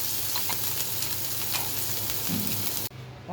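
Moringa drumstick pieces fry in a pan without salt, giving a loud, continuous sizzle and crackle close by that cuts off abruptly near the end.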